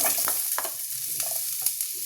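Onion frying in a little oil with bay leaves and cardamom, a bright hissing sizzle with a few scraping stirs and taps of a spoon, close and fairly quiet, no voices.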